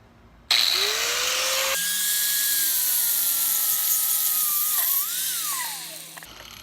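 Brass padlock being cut in half with a power cutting tool, a loud continuous high whine that wavers in pitch as the blade bites, about six seconds long before it winds down.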